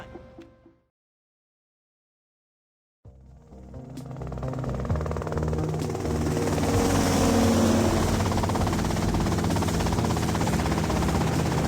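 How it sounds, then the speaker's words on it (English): A helicopter in GTA Vice City starts after a short silence and builds into a steady, loud rotor and engine roar that holds to the end. "that's them in the chopper"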